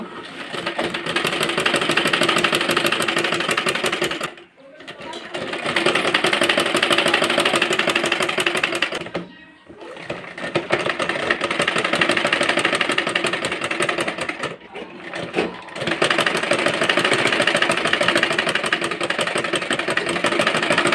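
An electric sewing machine runs in long, steady whirring stretches while double-stitching a small baby frock. It stops briefly three times between runs and sounds loud and close, with no talk.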